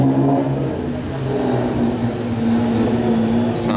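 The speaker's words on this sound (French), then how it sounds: "Il y a un Nissan GT-R de Slim." A Nissan GT-R engine revs on a Monaco street, a loud, near, steady mid-pitched drone that rises and holds under light background noise.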